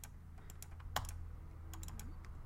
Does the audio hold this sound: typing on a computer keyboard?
yes